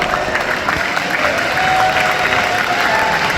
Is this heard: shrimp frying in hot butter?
no